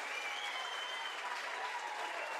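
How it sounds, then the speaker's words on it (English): A football crowd at a Wakefield AFC versus Dodworth match breaks into sustained applause and cheering after a goal, a dense, even wash of clapping that stays loud throughout. "You can hear what that meant to the crowd."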